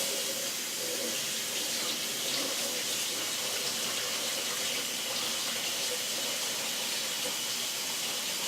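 A water tap runs steadily into a sink to rinse off a soap-making tool, a constant loud hiss and splash lasting throughout with no talking.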